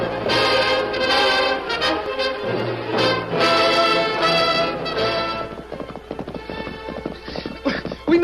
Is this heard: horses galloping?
yes